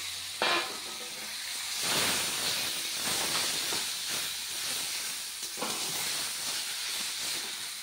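Leafy greens tipped into hot oil with garlic and chilli give a loud, sustained hissing sizzle, swelling in bursts as the pan is moved, with no talking.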